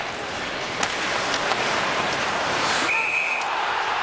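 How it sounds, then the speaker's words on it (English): At a hockey game, a referee's whistle gives one short, shrill blast late in the clip over a constant roar of arena crowd noise. "The whistle did blow."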